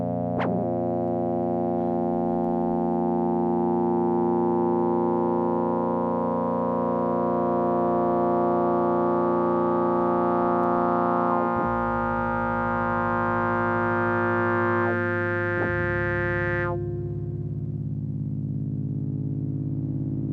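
Casio CZ-101 synthesizer holding a sustained tone that starts as a pure sine and slowly bends into brighter, buzzier waveforms, with abrupt timbre shifts partway through before settling into a duller tone.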